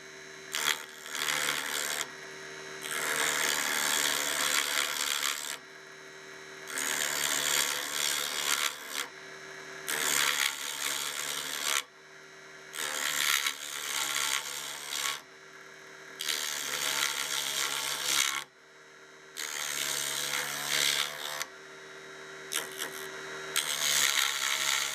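Mini wood lathe cut with a curved roughing gouge: a loud, broadband scraping hiss that comes in repeated bursts of a few seconds each, separated by short pauses with the motor's steady hum underneath.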